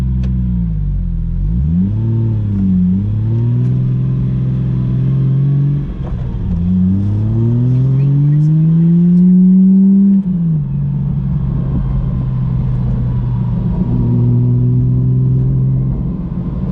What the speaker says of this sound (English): this car would benefit from a quieter exhaust